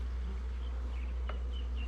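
Steady honeybee hum from a top bar hive, the bees only a couple of weeks in the hive, a close, even drone throughout with a faint higher buzz passing briefly.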